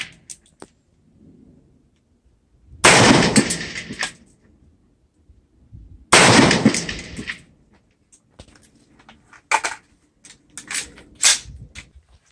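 Rifle fired at an outdoor shooting range while testing a 36-yard zero out to 300 yards, giving two loud, sharp reports a few seconds apart with echoing tails, followed by softer knocks and clicks.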